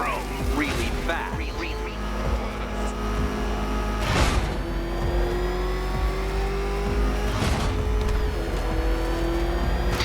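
Batmobile engine in Batman Arkham Knight, revving hard and steadily throughout with rising whines and two sharp bursts of acceleration, while a voice talks over the roar.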